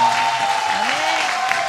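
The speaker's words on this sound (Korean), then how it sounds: "Just keep on clapping." A church congregation claps steadily during a sermon, a dense wash of many hands close by, with a voice and a sustained tone running faintly underneath.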